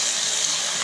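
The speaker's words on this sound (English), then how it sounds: "I'm just going to add in a little bit of water" Steady rushing of hot boiling water pouring into a pan of chicken biryani, a continuous broadband splash with no pauses, close and fairly loud.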